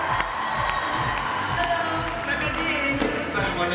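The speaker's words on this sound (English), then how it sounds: "And let's bring the applause home with" Large audience cheering and clapping for Team Zimbabwe at a science fair opening ceremony, a continuous loud roar of crowd noise with shouts and whoops, steady throughout.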